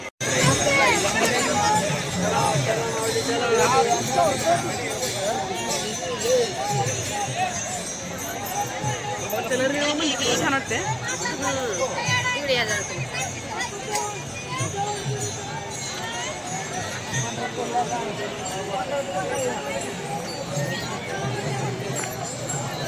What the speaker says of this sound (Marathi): घाटावरची गर्दी